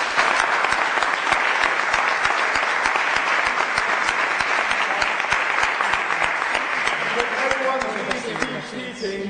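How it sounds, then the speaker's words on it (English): An audience applauds a special guest, Peter Obi, at a Nigerian talk event. The clapping is dense and sustained and holds steady for several seconds, with some voices mixed in under it before it begins to thin out at the end. "please join me in applauding our special guest and also applauding yourself"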